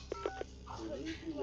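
A telephone in the Ju-On horror video game gives a quick run of three dialing tones, then a soft electronic warble follows, all fairly quiet.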